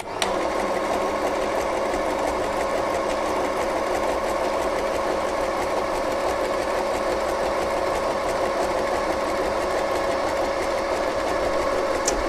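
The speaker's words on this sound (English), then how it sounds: "And now we sew the number 9 stitch. Number 9 is the zigzag stitch." An FHSM-519 sewing machine running a zigzag stitch, a loud, steady, fast mechanical whirr and rattle heard close up and unbroken for about twelve seconds, with no voice over it.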